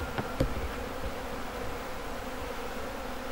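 A steady honeybee swarm buzz hums throughout, dense and continuous like many bees close by, with a brief louder pass near the start.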